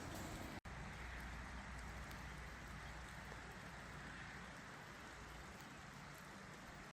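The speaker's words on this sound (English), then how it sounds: "Well, it's just started to rain." Steady rain in British Columbia hisses softly and evenly, a constant wash of patter with no other sounds standing out.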